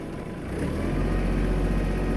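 A Kubota KL-230 mini tractor engine runs at its minimum speed, giving a steady, low mechanical drone that grows slightly fuller after the first moment and then holds an even idle-like hum.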